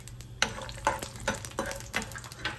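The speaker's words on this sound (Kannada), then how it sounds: "ಇವಾಗ ಎಣ್ಣೆ ಕಾಯ್ತಾ ಇದ್ದಂಗೆ ನಾನು ಒಂದೊಂದೇ ಐಟಮ್ನ ಹಾಕಿ ಫ್ರೈ ಮಾಡ್ಕೊಳ್ತೀನಿ." Garlic frying in hot oil in a pan: a soft close sizzle punctuated by about five rhythmic scraping stirs of a spoon, evenly spaced and fairly quiet.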